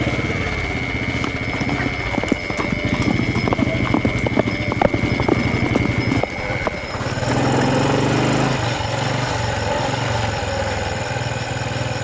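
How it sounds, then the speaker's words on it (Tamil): Horse hooves clip-clop in quick, steady rhythm for several seconds, fairly close and loud, then fade into a steady low rumble with background noise. "எங்கே அந்த குதிரை? இப்போதான் சார் போச்சு."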